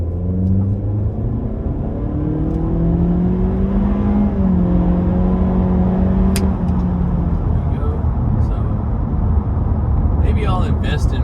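A 2025 Acura Integra in Liquid Carbon accelerating hard from 0 to 60, its engine rising through the revs in steady pulls with gear changes under loud interior road rumble, heard from inside the cabin as someone talks.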